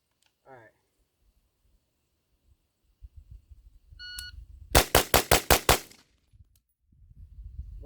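AR-15 rifle on a range: one shot-timer beep, then a rapid string of six sharp, loud gunshots in quick succession, with faint handling noise and low background rumble before and after.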